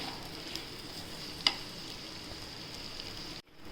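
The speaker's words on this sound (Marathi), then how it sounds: "आता आपण तेल तापत ठेवलं आहे त्याच्यात कांदा टाकूया" Onion sizzling in hot oil for a green dill vegetable dish, a soft steady hiss with a single sharp pop, fairly quiet and close, briefly cutting out near the end.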